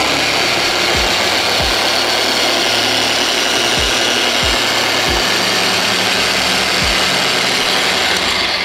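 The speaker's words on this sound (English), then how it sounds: "I'm gonna start my polishing process" A car polishing machine runs steadily at a low speed setting, giving a loud, even whir and hiss throughout, with a few low thumps at irregular intervals.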